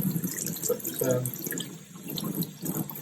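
Warm water runs from a tap into a sink while plastic miniatures, stripped of paint, are rinsed off, a steady splashing flow with brief clatter and quiet talk over it.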